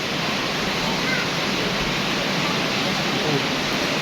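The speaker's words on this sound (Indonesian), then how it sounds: "Hujan sama angin guys." Heavy rain driven by wind at a house, a dense, loud, unbroken roar of falling water that stays steady throughout.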